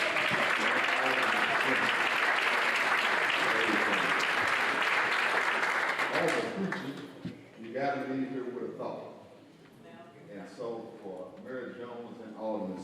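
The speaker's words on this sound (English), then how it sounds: "round of applause for Ms. Brown." An audience at a church gathering gives a steady, dense round of applause for a guest, loud and sustained for several seconds before fading out as a voice begins talking.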